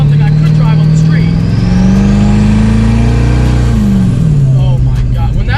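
A 1,000hp twin-turbo Corvette street car accelerates hard, its loud, steady engine drone rising in pitch through the pull, then dropping briefly near the end before climbing again, with talk and cabin noise mixed in.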